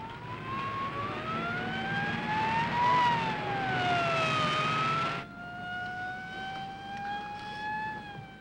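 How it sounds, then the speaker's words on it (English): Police car siren wailing, rising and falling in pitch, loud and close then dropping suddenly as if moving away, continuous with no talk. "Ned, I always wanted to be in a racing police car with a siren screaming"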